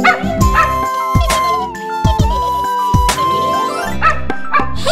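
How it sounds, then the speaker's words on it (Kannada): A puppy in a Kannada children's rhyme gives several short, bright yips and barks, loud and close, spaced over a bouncy musical backing. "ಲೊಳ್ಳೊಳ್ ಬೌ ಎಂದು ಕೂಗಿ ಹೇಳುವೆ"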